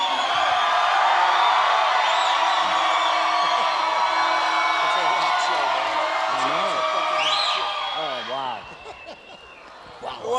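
A packed convention audience at a fan expo screams and cheers in a loud, sustained roar that fills the room, tapering off near the end as a voice briefly speaks over the fading crowd.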